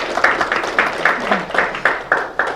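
An audience at a policy forum on disability sports instructors greets a speaker with a sparse, rhythmic round of clapping, about ten distinct claps spaced roughly evenly, fairly close and thin rather than a full ovation.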